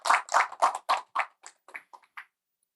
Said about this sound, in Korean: 박수로 한번 맞아주시죠.